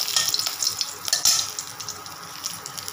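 A green chili and bay leaf crackle and sizzle in leftover frying oil, a busy, bright spattering hiss with a few sharper pops.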